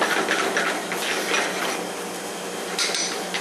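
Fresh diced tomatoes from Cecil Farms being stirred into a simmering zucchini succotash in a pan, a dense, steady scraping and clattering of a utensil against the pan, loud and close throughout.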